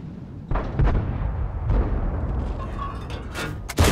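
FCM 50t tank firing its gun in World of Tanks, two heavy booming shots a second apart, each followed by a rumbling tail, with further game noise and brief blasts toward the end.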